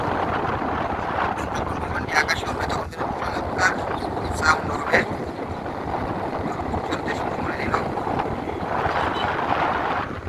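A large four-engine cargo plane begins its takeoff, its engines a steady, broad roar heard from a distance, while someone talks over it throughout.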